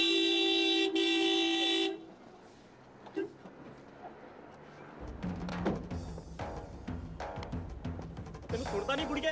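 A car horn sounds in a loud sustained honk, then cuts off into quieter road and street noise with some voices, and faint further horn tones come near the end.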